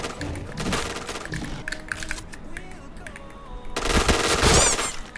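Rapid gunfire bursts from a Cheytac M200 sniper rifle in a Point Blank clan match, crackling loudly among clicking game effects, with a heavier burst near the end.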